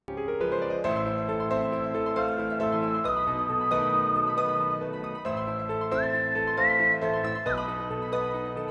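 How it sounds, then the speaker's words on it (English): A whistled melody rides over sustained orchestral chords, holding long notes before climbing higher near the end, clear and prominent without any talk. "I brought in the whistle to highlight the change even more"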